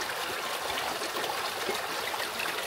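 A stream flowing through a Muslim village in India, a steady close rushing and trickling of water that continues without a break, with no voices over it.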